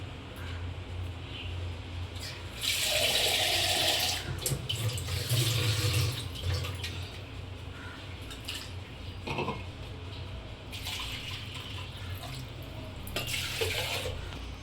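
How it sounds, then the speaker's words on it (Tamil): Water runs steadily with a gurgling splash, swelling louder in bursts as it is poured into a pot of medicinal curry (marundhu kuzhambu), close by and without talk. "இன்னும் கொஞ்சம் தண்ணி ஊற்றிக்கலாம்."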